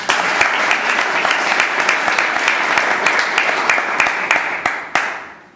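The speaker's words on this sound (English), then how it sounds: "Ladies and gentlemen, Payal deserves another round of applause, please." Sustained applause from an audience after a speaker's speech, many hands clapping in a dense, even patter with a few louder claps standing out, fading quickly at the end.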